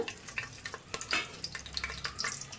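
Whole spices (cinnamon pieces, cloves, peppercorns and cardamom) crackle and sizzle in hot oil for a chicken gravy, with a soft steady frying hiss, scattered pops and occasional stirring scrapes, close and fairly quiet.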